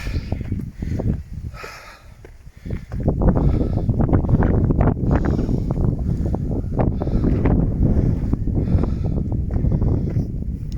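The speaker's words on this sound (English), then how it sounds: "It's a bit windy up here." Steady, gusty wind buffets the microphone throughout at Thor's Cave in the Manifold Valley, Peak District, England, a loud continuous roar with rumbling low-end surges and no voices.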